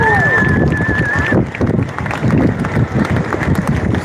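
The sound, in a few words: applause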